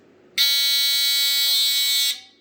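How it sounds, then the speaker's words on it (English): A harsh, steady electronic buzzer from a vintage square smoke alarm blares for nearly two seconds, loud and close, then cuts off abruptly, leaving quiet background. "Classic star buzzer sound."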